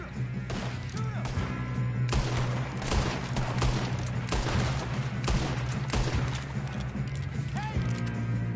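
Gunfire in Red Dead Redemption 2 during a chase on horseback, with several sharp shots scattered across a steady low rumble and hoofbeats, under occasional shouting voices.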